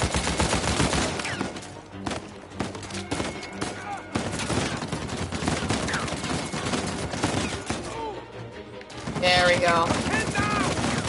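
Blind-fire gunfire in the Uncharted 4 video game, a heavy stream of rapid shots crackling loudly for several seconds, with someone talking briefly over the shooting.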